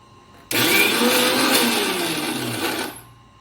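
Mixer grinder grinding onion into coconut chutney, a loud, steady motor whir that starts abruptly, runs for a couple of seconds with a dipping pitch, then cuts off.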